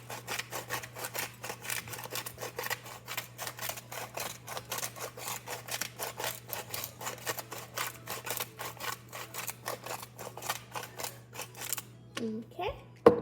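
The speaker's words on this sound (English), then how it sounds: "So I'm just gonna take the salt grinder and just grind it over it." Over a hash brown casserole, a salt grinder grinds salt in a steady series of close, rhythmic crunching clicks that carries on for several seconds over a low hum.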